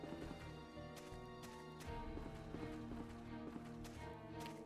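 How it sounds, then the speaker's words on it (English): Footsteps in the dungeon crawler Stranger of Sword City, walking through the Orcish Hunting Grounds past a pole, with steady steps under a busy, continuous game music bed. "You hear how the footsteps are different around this pole?"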